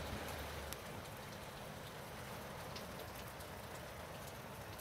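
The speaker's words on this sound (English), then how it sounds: "Can you hear the sound of rain?" Heavy rain falling outside during bad UK weather, a dense, steady hiss of drops pattering on surfaces, fairly faint and continuous with a few sharper drips and no talking.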